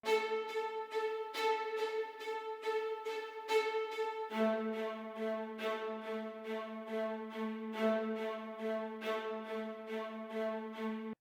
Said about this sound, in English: I'll do the final with the staccato strings.